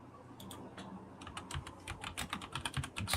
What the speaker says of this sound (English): Sounds like he's typing.